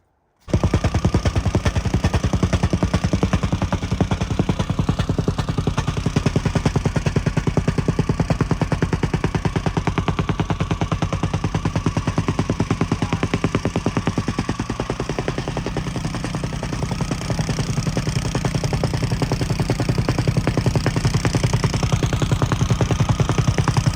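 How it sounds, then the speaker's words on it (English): A plate compactor runs on a gravel base at a rain-soaked Mammoth Lakes job site. A loud, close engine drone with rapid, steady pounding thuds continues without pause from start to finish. "So we're gonna run the whacker down here on the bottom"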